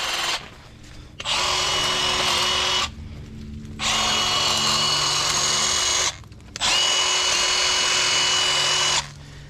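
Three long bursts from a Milwaukee M12 Fuel 8-inch cordless hedge trimmer cutting branches, each a loud, steady motor whine with chattering blades, up close and separated by short pauses.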